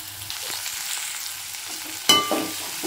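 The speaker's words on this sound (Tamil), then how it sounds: "வெங்காயத்தை போட்டு நல்லா வதக்கிட்டுருவோம்" Onions sautéing in a pan for Tamil-style seela fish podimas give a steady, close sizzle with light stirring, and a louder clatter of utensil or ingredient hitting the pan about two-thirds through.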